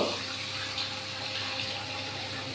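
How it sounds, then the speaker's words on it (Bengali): Water pouring steadily into a cooking pan in a home kitchen, a dense, continuous, close rush with no breaks for the whole moment and no voices over it. "তার জন্য আমি আর একটু জল এর মধ্যে দিয়ে দেবো"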